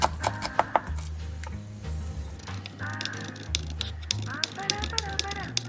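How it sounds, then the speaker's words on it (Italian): A knife finely chops a small peeled ingredient on a board for risotto alla Milanese, giving quick clusters of sharp taps near the start and again later, under a voice and background tones. "Poi lo trittiamo il più fine possibile."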